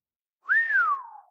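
A single sardonic whistle, clear and close, with one sliding note that rises quickly, holds, and then falls away slowly into silence.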